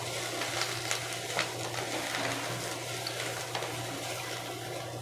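Grated coconut frying in a pan with brinjal for ennai kathirikai kulambu, a steady close sizzle and crackle with faint stirring scrapes, no voices.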